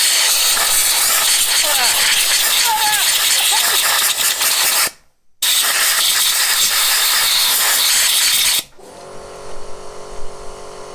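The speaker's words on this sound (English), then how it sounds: "Now I'm going to use the airline" Compressed air line blasting out the dog clutch of an Iseki lawn mower drive system, a loud steady hiss that cuts out briefly, resumes, then stops, leaving faint workshop noise.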